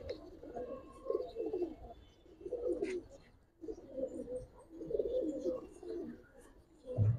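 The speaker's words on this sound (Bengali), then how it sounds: "এগুলো হলো অরিজিনাল নাপ্তা কবুতর ভাই।" Original Napta pigeons coo in several soft, rolling phrases, close by, with brief pauses between them.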